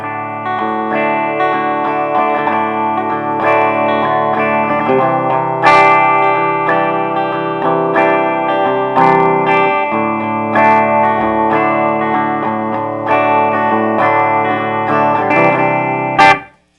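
Electric guitar on the bridge pickup plays through a Fender Hot Rod Deluxe III amp with reverb off, sustained distorted chords and notes ringing loud and up close, then cutting off abruptly.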